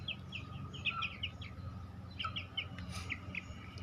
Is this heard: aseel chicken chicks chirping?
yes